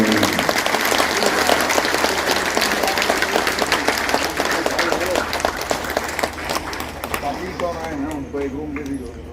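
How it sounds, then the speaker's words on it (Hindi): Sustained loud applause from an audience at an International Yoga Day celebration, dense clapping filling the whole stretch and thinning slightly toward the end, with voices murmuring underneath. "सभी एक दूसरे के उत्साहवर्धन में तालियों की गड़गड़ाहट कर रहे हैं"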